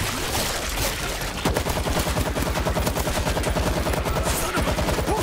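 Rapid automatic gunfire in the zombie shooter New York Zombies, loud and continuous bursts of machine-gun fire, heavy and dense after a brief lead-in of scattered shots.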